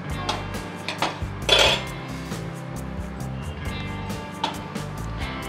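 A spoon mixes sesame seeds, cumin powder and coriander powder in a bowl: close clinking and scraping against the bowl, irregular, with one louder knock near the middle, no talk.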